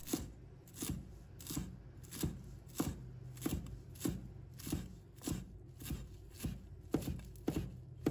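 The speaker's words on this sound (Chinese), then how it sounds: "再准备几根香菜，把它切成小段" A knife chops fresh coriander into short pieces on a cutting board, a steady series of crisp, evenly spaced knocks, a little over one per second, with no talk.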